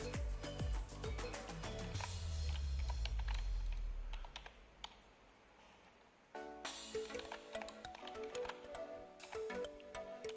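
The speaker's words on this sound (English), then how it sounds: "As you can see, I am typing using my keyboard." Keys on a Logitech K120 USB keyboard, connected to a mobile phone through an OTG cable, are typed in quick, close, crisp clicks and taps, with a burst of rapid strokes, a brief lull, then more typing.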